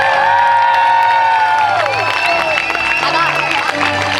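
Loud cheering and shouting from a crowd at the Monticello NY High School class of 2020 graduation, high excited voices whooping over scattered clapping, close and energetic throughout.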